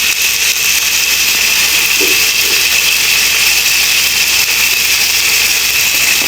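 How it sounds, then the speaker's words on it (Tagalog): Corned beef sautéing in a pan gives off a loud, constant sizzling hiss that stays even throughout, with a brief soft clunk partway through. "Gisa-gisa natin ang corn beef."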